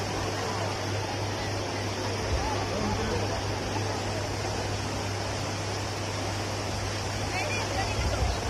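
World's tallest indoor waterfall at Jewel Changi Airport, a steady broadband rush of falling water that fills the whole scene, with a low hum and indistinct crowd voices underneath.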